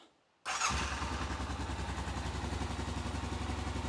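A Honda Rincon ATV engine, just fitted with its airbox, starts after a brief silence and settles into a steady, loud, close idle with a rhythmic mechanical chug and light clatter.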